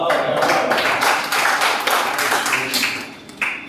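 Audience at a poetry recital, a mushaira, breaks into a burst of clapping that rises quickly and trails off unevenly, with a few late claps.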